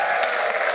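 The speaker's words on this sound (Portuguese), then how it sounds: "Vamos aplaudir a nossa banda." A short burst of steady, dense audience applause for a band in a theatre, heard on its own.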